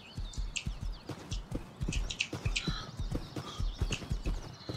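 Horse hooves clip-clop in a steady rhythm as a horse is ridden in a video game, close and moderately loud, with bird chirps scattered over the top.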